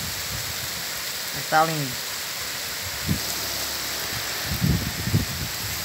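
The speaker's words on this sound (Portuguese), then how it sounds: "A chuva. Tá ventando agora bastante." Steady hiss of rain with wind rushing throughout in the Brazilian sertão backcountry, a bird call briefly sounding and a person speaking a few words in Portuguese over the downpour.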